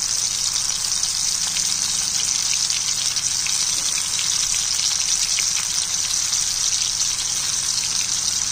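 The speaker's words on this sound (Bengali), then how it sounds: "এইভাবে সবগুলো আমি ভেজে নিয়ে আসছি। এভাবে করে ভাজতে হবে।" Kakrol (teasel gourd) fritters fry in hot oil, a dense, steady bubbling sizzle that stays loud and close throughout with no voices over it.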